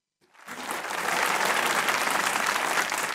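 A studio audience at a comedy show breaks into applause, rising quickly from silence into steady, dense clapping that holds strong to the end.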